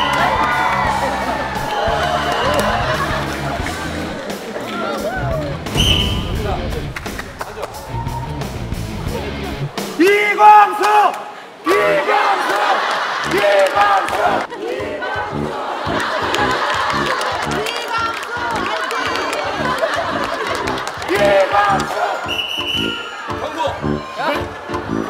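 A television variety show cast breaks into loud shouting and cheering that continues for a long stretch, with rowdy whoops and excited voices overlapping.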